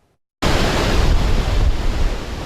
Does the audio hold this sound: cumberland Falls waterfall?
yes